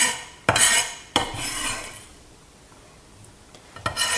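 Knife dicing ginger on a cutting board, a few sharp clacks of the blade at irregular intervals with quieter scraping between them, close by and without talking.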